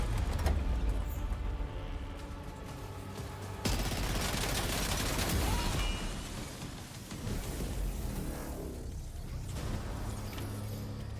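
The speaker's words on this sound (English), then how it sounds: "Heavy machine gun." A heavy machine gun in Death Stranding 2 fires in long, sustained roaring bursts, dense and loud, with a noisy rumbling wash behind the shots and no talking.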